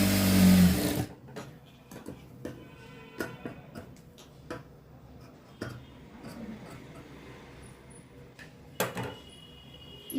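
A sewing machine stitches a child's frock in short bursts of rapid ticking and clicking, stopping and starting, with a loud rush at the opening and faint speech in places.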